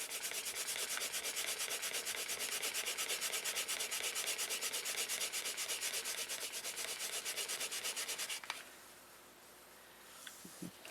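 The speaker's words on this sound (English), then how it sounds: "I'm just going to rub it" Newsprint comic book cover being rubbed by hand to smooth it, a loud, fast, rhythmic scrubbing that runs steadily for about eight seconds, then stops abruptly, leaving quiet room noise and a couple of small handling sounds.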